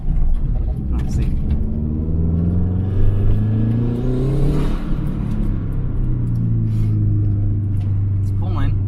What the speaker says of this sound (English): It's pulling, but I still feel like there's a little miss or something.